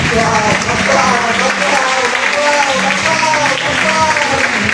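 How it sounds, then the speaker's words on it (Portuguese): Church congregation applauding during a Communion service, a steady dense wash of clapping filling the room, with a worship leader's voice and music tones carrying over it throughout. "Aplauda o Senhor."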